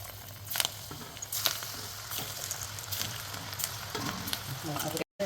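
Small gram flour pakodas deep frying in hot oil, a steady loud sizzle and bubbling with brief louder crackling bursts throughout, ending in a short silent gap.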